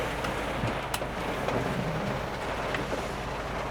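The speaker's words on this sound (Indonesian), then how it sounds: "Hujannya lebat sekali nih guys" Heavy rain drums steadily on a vehicle during an afternoon drive, with a dense, even wash of noise and a low rumble underneath throughout.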